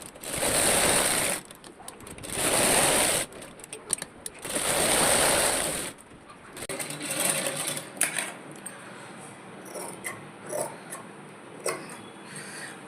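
A sewing machine stitches a doubled baby-frock fabric in three separate runs of fast, even needle clatter, each about a second long. Softer handling clicks and rustles follow.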